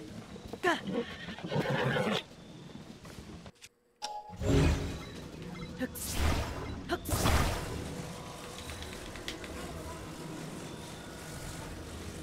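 A horse neighing in The Legend of Zelda: Tears of the Kingdom, whinnies rising over game sounds and someone talking, with a loud whooshing swell midway.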